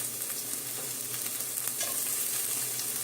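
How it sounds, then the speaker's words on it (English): Food sizzles and fries in a new steel pan while avocado soup ingredients are stirred, a steady crackling hiss at moderate volume with no talking. "That's my steel pan adjusting to the heat."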